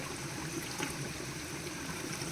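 Spring water wells up out of the ground in a Himachal village, trickling and gurgling steadily at close range with no voices over it.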